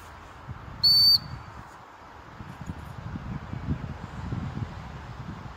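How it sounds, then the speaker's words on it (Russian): A single sharp, high training whistle is blown once to call an Alabai dog, short and loud outdoors, followed by soft rustling and wind-like background noise. "свистнул, должен подойти."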